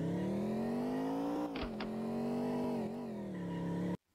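Simulated car engine from a Unity sim-cade vehicle physics demo, a steady synthetic drone whose pitch rises and dips slightly, with a couple of brief clicks midway, cutting off abruptly at the end.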